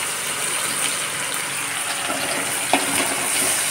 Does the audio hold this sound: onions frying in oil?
yes